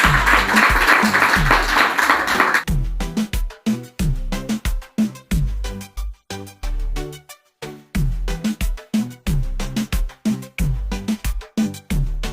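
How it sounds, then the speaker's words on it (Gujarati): Loud applause from an audience at a primary school children's fair fills the opening seconds as a dense, steady wash, then gives way to sharp rhythmic percussive beats. "જોરદાર તાળીઓ ભાઈ"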